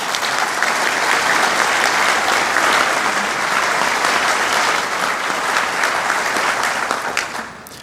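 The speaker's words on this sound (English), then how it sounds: "that deserves a round of applause" An audience bursts into sustained, even applause for donors, a broad steady roar of many hands clapping that holds for several seconds before tapering off at the end.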